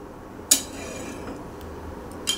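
Chicken and potatoes being stirred in a cooking pot for chicken biryani, with two sharp metallic clinks of a utensil against the pot, one early and one near the end, over a quiet low background and no talking.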